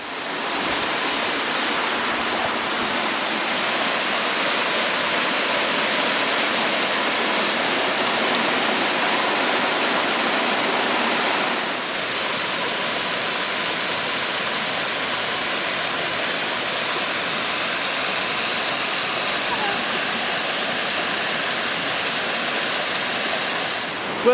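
A small rainforest waterfall near Gold Creek Falls rushes in a dense, unbroken roar of falling water, steady and close throughout with no voices.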